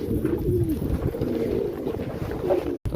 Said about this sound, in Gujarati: તો બધા કબૂતરને રોટલી નાખી દીધી છે, પાણીનું કુંડું મૂકી દીધું છે